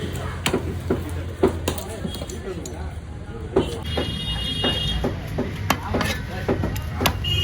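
A knife chops fish into pieces for frying, irregular sharp cutting knocks on a board repeating throughout at close range, while a person talks over it.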